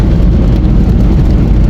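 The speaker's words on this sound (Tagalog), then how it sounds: "Umuulan na." Rain pours over a busy road full of traffic, making a loud, steady, dense wash of noise with a low rumble of vehicles underneath and no voices.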